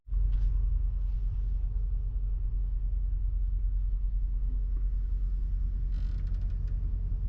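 A steady low rumble of idling engines and traffic at a truck stop fills the air, with a couple of brief creaks and clicks over it.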